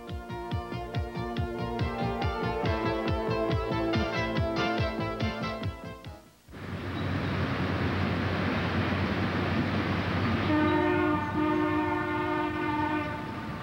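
Lima first-generation diesel locomotive, an Alco RS1 lookalike, rolling past with rhythmic clattering of wheels, then a sudden switch to a loud, sustained multi-tone horn blast over continuous engine rumble.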